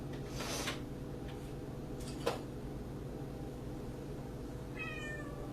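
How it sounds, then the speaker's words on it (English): A young black kitten gives a short meow near the end, fairly faint over a steady background hum, with a brief tap partway through. "He's a wild little kitty cat."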